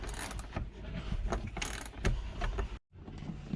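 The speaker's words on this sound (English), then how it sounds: "for here, these are a bit longer, so we'll switch to open head ratcheting. Get these guys loose." An open head ratcheting wrench loosening bolts during a radio install in a 1996 Chevrolet C4 Corvette: rapid, continuous metallic ratchet clicking up close, briefly stopping before resuming, with no talking.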